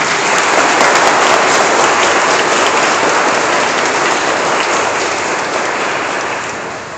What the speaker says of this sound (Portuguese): Aplauda aí vocês.